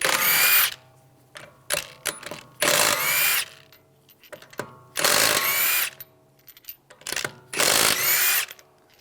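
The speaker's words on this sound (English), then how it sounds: "use a 19mm socket, take the lug bolts out" Socket ratchet and tool spinning lug bolts off the rear wheel of a 2011-2014 Dodge Dart, in several short, loud whirring bursts separated by quieter clicks and pauses.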